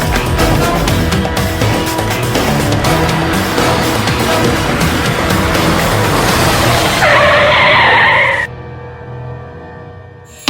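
A car skidding loudly with engine roar and tire noise for several seconds, then an abrupt cut to a quieter hum as the vehicle breaks down, with no speech.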